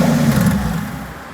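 A twin-turbo V12 swapped into a Toyota Hilux, a 1GZ-FE engine, gives a brief loud rev, its deep rumble swelling then fading within a second or so.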